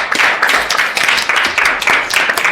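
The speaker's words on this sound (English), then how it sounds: "Everybody give a round of applause." An audience claps after a class presentation, a dense, close, steady patter of many hands that keeps going evenly throughout.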